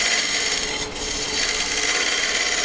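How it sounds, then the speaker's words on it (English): Dry, long-seasoned walnut being cut with a bowl gouge on a lathe, giving a steady, close, unbroken scraping rasp with one brief dip, no voices. "I'm going to take my bowl gouge, and I'm going to get a cut going"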